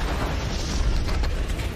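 A big bomb blast set off against fighters in a film, heard as a dense, roaring low rumble with a sustained crackling wash, loud and continuous for under two seconds.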